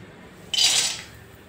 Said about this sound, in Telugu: ఆయిల్ వేడైన తర్వాత కొన్ని పల్లీలను వేసుకుందాం.